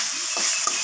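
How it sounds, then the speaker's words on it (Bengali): Meat cooking for kachori is stirred and fried in a pan, giving a brief close sizzle with a couple of scraping stir strokes. "এখন এটা কিছু সময় আমি ভালো করে কষিয়ে নেব"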